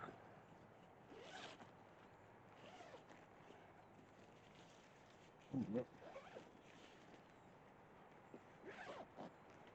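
A two-way zip on a camping tent door being pulled, a brief raspy zipping burst amid quiet outdoor ambience, with faint talk nearby.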